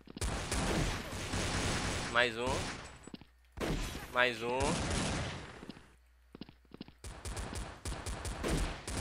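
Pistol shots in the Blood Strike shooter game, a few loud sharp bursts in quick succession with pauses between, while someone speaks over the action.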